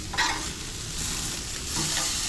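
Food sizzling steadily on an outdoor smoker as it gets flipped, a close, continuous crackle with brief bursts of louder spitting and no voices.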